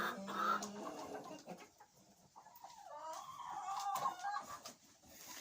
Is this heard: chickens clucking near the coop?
yes